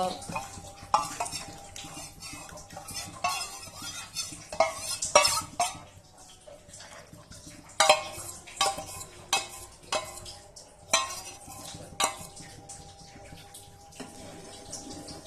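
Custard milk stirred into boiling milk in a pot: a spoon scrapes and swirls in uneven bursts, with occasional metallic clinks against the pot.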